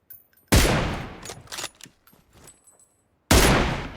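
Bursts of gunfire in the mobile shooter PUBG Mobile: a loud sharp shot opens a quick run of rapid cracks that fade to scattered pops, then another loud blast near the end.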